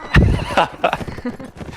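A horse gallops in the Mount & Blade: Warband video game, with loud, close hoofbeats mixed with a neigh-like cry over about two seconds.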